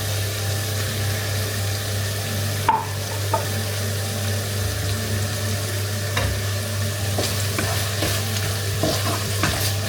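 Egg manchurian with a spoonful of chilli sauce sizzles steadily in a hot pan, a continuous close frying hiss with a few scattered clicks and taps of the spoon, under a constant low hum and no talking.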